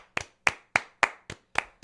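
Podcast hosts give a round of applause for Mr. Paul Whitmire, a former teacher: six sharp, close claps in a steady rhythm, with no talk over them.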